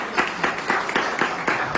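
A student audience at an A-level college in Clifton, Karachi, clapping in a brief burst of close, rhythmic applause with about seven distinct claps.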